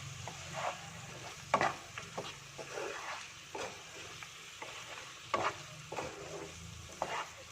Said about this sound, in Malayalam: മിക്സ് ചെയ്ത് കൊടുക്കാം.